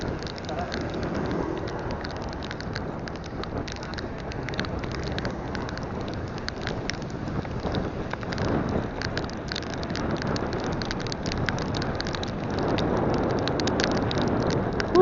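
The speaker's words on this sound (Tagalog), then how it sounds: "lumakas na naman po ulan" Heavy rain pours down in a dense, steady hiss with spattering drops, continuous and gradually growing slightly louder.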